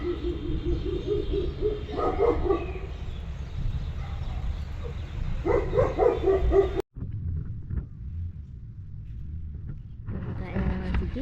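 Dogs bark repeatedly in a neighborhood in Keserwan, Lebanon, after a loud explosion, with several bursts overlapping a steady background hum and people talking nearby.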